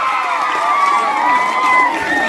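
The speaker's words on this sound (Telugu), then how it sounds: "అందరం చప్పట్లు కొడదాం ఒకసారి వారికి" A crowd of children at an Independence Day celebration claps and cheers continuously, a steady, dense wash of applause and shouts close by that fills the whole stretch.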